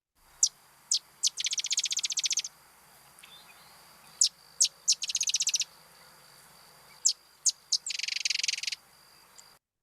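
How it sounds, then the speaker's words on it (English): A small marsh bird, likely a sedge or marsh wren type, gives a harsh sewing-machine rattle: a couple of sharp intro notes then a dry mechanical buzz, repeated three times, clear and close against a quiet background. "the more sewing machine, harsh rattle with a couple of intro notes followed by a rattle."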